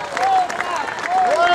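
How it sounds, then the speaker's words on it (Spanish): Audience applause at an Ecuadorian festival at Croton Point in Westchester, New York, 2013: a steady wash of clapping from the crowd with a voice speaking over it throughout. "Fuerte el aplauso para él."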